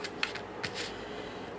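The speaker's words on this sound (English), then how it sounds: "let's just get a pair of scissors" A pair of scissors snips through paper card in a few short crisp cuts, close and quiet, with brief rustling of the card between snips.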